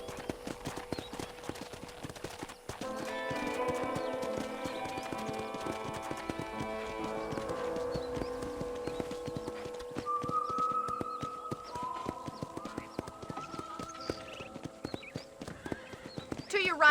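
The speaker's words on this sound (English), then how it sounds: "let's see if you can still ride a horse" A horse in Red Dead Redemption on PS4 trots with rhythmic clip-clop hoofbeats on a ranch, punctuated by a loud neigh partway through, with game music tones and occasional speech beneath.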